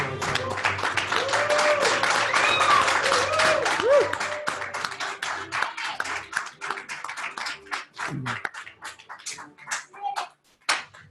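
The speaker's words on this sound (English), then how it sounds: "How about a round of applause?" A graduation audience at the Foodworks culinary training program in Halethorpe gives a round of applause. It is loud and sustained at first with voices and cheers mixed in, then thins to scattered individual claps.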